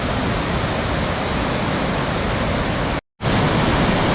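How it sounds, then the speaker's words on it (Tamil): Megam waterfall in a forest roars as a dense, continuous rush of falling water, loud and close, with a brief abrupt dropout near the end before the roar resumes. "மேகம் அருவி பயங்கரமாக இருக்குங்க"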